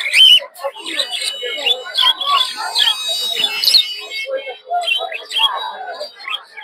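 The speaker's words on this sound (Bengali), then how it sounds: "দর্শক এই জায়গায় দেখছেন কিছু ককাটেল পাখি" White cockatiels at the crowded Tongi Bazar bird market chirp and whistle in quick shrill bursts, many birds calling over one another at close range amid the market's voices.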